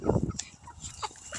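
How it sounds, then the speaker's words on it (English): A chicken clucks outdoors near ducks, opening with a loud close burst of calls, then a few fainter, scattered clucks after it. "You hear the chicken."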